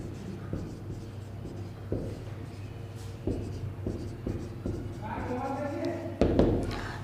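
Scratchy strokes and taps of writing on a board during an engineering lecture on one-way RCC slab design, continuing steadily beneath a lecturer's voice.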